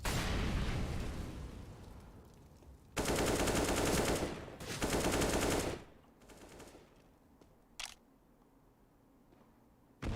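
Rapid automatic rifle bursts in a CS:GO competitive match, two loud sustained sprays a second or so apart after a softer stretch of fire, then quieter scattered shots trailing off.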